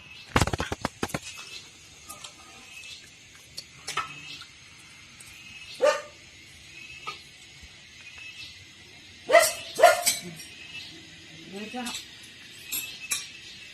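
A dog barks close by in a couple of short bursts, while kitchen utensils clink and clatter near the microphone in a home kitchen where payasam is being served.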